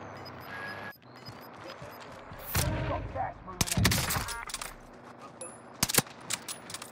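Gunfire crackles in the battle-royale shooter Call of Duty Warzone Pacific, with several sharp bursts and single shots scattered over a steady background hum, some loud and close, others fainter.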